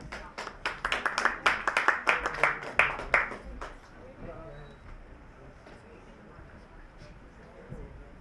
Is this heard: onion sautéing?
no